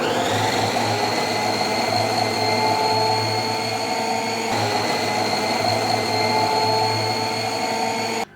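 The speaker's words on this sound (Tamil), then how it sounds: "கேரட்டை உள்ளே போட்டுட்டு மிக்ஸி ஆன் பண்ணி புஷ்ஷரை லைட்டாக நீங்கள் புஷ் பண்ணிங்கன்னா நமக்கு ஸ்பீடாக துருவி கொடுத்துரும்." A Preethi Zodiac food processor motor whirs with a steady high-pitched whine as it grates carrots, running continuously before cutting off abruptly.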